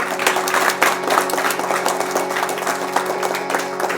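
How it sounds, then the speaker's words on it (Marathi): Steady, loud clapping from an audience at a birthday celebration held in the Indian style, sustained throughout with dense crowd applause and faint voices underneath. "टाळी जरा जोरदार व्हायला पाहिजे"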